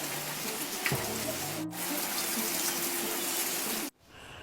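Tap water gushes steadily into a bath during the rainy season, a close, continuous splashing rush that cuts off abruptly near the end.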